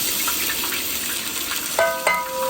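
Crushed ginger, green chilli and garlic paste sautéing in a pan give a steady, close hiss of frying with a couple of brief tonal clinks near the end.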